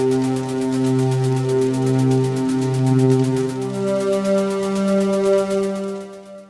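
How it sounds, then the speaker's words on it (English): A sustained synth tone holding steady harmonic chord notes that shift pitch, with a faint rapid pulsing hiss of modulated white noise across the top, continuous and fairly loud. "So we have just a little bit of modulation on that white noise."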